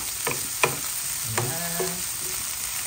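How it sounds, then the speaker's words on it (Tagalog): Garlic sizzles softly in a hot pan, with a few sharp scrapes and clinks of a utensil stirring over a steady low frying hiss. "ginigisa na po natin ang bawang"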